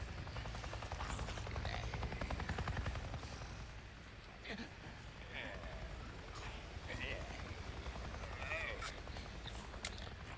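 A helicopter flies in the open-world zombie game Days Gone, a steady low rotor rumble and thump running under ambient game sounds and a German-speaking voice throughout.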